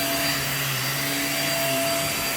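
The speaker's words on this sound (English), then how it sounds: "you can release the suction on the handle and allow the vacuum to lift up better" A household vacuum cleaner runs steadily on carpet, a loud continuous motor whine with a sustained airy roar throughout, alone with no voices.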